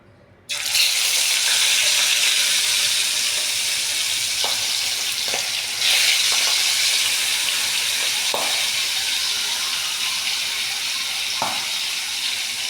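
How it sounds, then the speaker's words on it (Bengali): Pieces of salted, vinegar-marinated white fish drop into hot oil in a kadai and crackle in a loud, steady sizzle that swells near the start and runs on unbroken, with a few faint clinks of stirring. "এই তেলের মধ্যে মাছগুলো ছেড়ে দেবো।"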